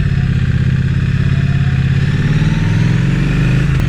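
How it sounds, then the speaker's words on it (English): Triumph Street Cup motorcycle engine running steadily on a countryside ride, a loud, close, continuous low rumble with a slight rise in pitch toward the end, heard alone without talk. "over the sound of this motorcycle"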